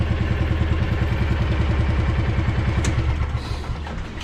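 A Kawasaki Mule utility vehicle's engine runs again after a voltage regulator fault was fixed. Its loud, close, steady chugging idle pulses evenly throughout, with a little wind noise.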